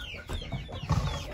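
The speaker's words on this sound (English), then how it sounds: "Let me check on these broody hens because they are still in here" Broody hens clucking low and close inside a nest box, soft murmuring clucks running steadily through the short stretch, a little louder toward the end.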